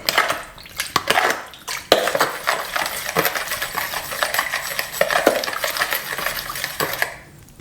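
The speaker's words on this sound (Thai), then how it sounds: "เสร็จแล้วเราก็จะคนทุกอย่างให้มันเข้ากันเป็นเนื้อเดียวนะครับ" A utensil clinks and scrapes steadily around a bowl while a sesame oil, sugar and sauce mixture is stirred, up close with a rapid metallic rhythm.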